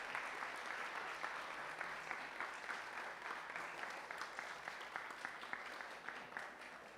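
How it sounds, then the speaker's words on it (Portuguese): Sustained applause from a church congregation at a baptism and child presentation service, an even wash of many hands clapping at a fairly distant, soft level, unbroken for about seven seconds. "Uma salva de palmas para essa família."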